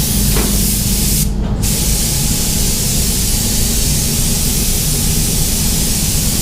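A spray gun lays clear coat over base coat on a smash-repair job, giving a steady, loud, close hiss that runs the whole time, dipping only briefly once.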